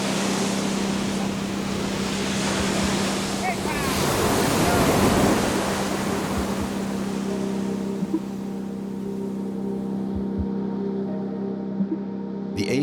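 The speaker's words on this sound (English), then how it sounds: "The waves are going to keep getting higher." Ocean waves and strong wind roar during an Atlantic storm in the Azores, a loud continuous wash of surf and gusts, with a steady low engine-like hum underneath.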